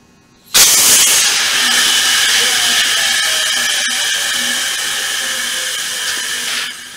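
A truck air brake system hisses loudly with a sudden onset, the steady rushing air continuing close by for several seconds before cutting off abruptly.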